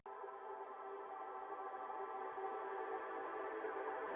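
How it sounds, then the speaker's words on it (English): Atmospheric synth pad bed, a soft, airy sustained wash of tone with a steady, even level throughout, quiet and heard alone without any voices. "we've got this super sick Atmos bed,"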